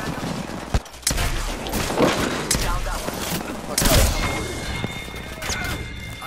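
Bursts of rapid gunfire and sharp impacts in a shooter game, loud volleys in clustered bursts with brief gaps, under players' hurried voices talking.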